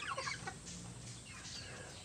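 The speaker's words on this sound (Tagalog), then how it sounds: "yung mga free-range chickens" Free-range chickens cluck in a short close burst at the start, then softer fowl noises continue over a steady background hum.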